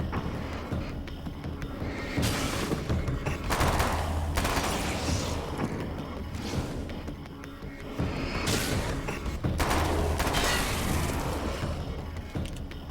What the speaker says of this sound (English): the SMG is really good, actually.